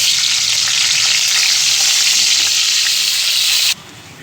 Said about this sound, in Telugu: ఇప్పుడు ఈ ఆయిల్లో టమాటాలు